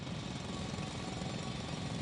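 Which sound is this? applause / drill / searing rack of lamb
drill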